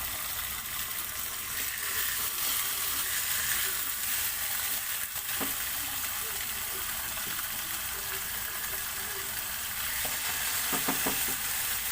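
Four kingfish slices frying in a pan for fish biryani, a constant close sizzle with a few light taps of a utensil near the end and no talk.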